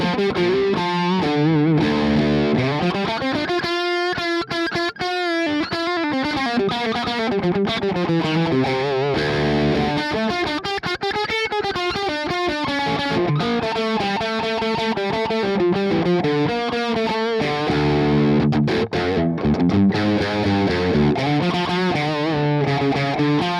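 Electric guitar played through a Neural DSP Quad Cortex on a pushed classic Class A amp preset with no reverb, giving a crunchy, slightly overdriven tone. It sounds loud and up front with strummed chords and melodic lines played continuously.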